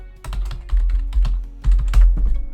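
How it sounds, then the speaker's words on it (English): Computer keyboard typing a login at a network router setup, a close, fast run of key clicks in uneven bursts with short pauses, no voices. "Type in login as Frank,"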